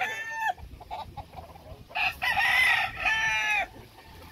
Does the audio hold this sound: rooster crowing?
yes